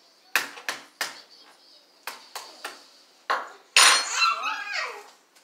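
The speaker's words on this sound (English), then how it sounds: "we'll crack this egg" An egg cracks against a bowl rim for a cake mix, heard as a few sharp separate taps, followed by louder clattering of dishes and utensils, close up.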